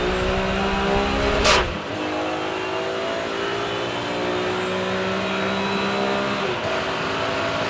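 BMW race cars at speed around Donington Park, engines roaring loudly and continuously with shifting pitch as cars pass close by, a sharp burst near the start then sustained revving.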